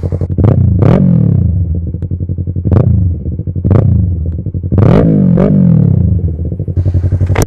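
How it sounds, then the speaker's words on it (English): A Honda Grom motorcycle engine idles with a steady, throbbing rumble and is revved repeatedly in several sharp, loud bursts, close to the listener. "this bike, some people don't like it, some people do. I think it sounds awesome."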